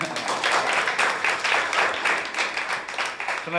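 Audience at a Tamil literary talk applauding after a recited verse, an even, moderately faint patter of many hands clapping throughout.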